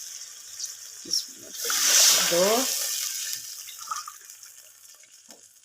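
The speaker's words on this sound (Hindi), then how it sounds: "यहाँ पे तकरीबन मैं 5 कप और डालूँगी पानी के" Water poured by the cupful into a cooking pot while making homemade rice crispy snacks, a sustained splashing rush of liquid, with a woman counting aloud around it.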